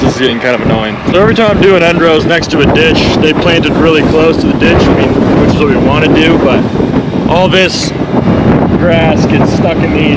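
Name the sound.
wind noise on the microphone outdoors on a farm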